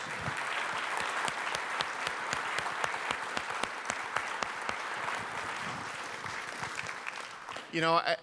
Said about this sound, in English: Big round of applause for all these folks.